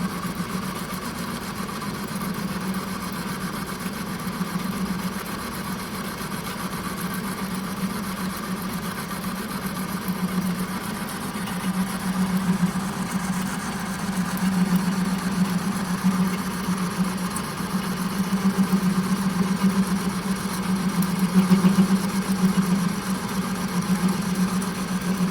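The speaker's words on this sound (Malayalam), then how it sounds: "ആക്സിസിൻ്റെ പാരലായിട്ടാണ് ടൂളിപ്പോൾ മൂവ് ചെയ്യുന്നത്." A lathe hums steadily in a manufacturing lab while the tool feeds parallel to the workpiece axis, a continuous low machine drone with a faint whine, unchanging and alone.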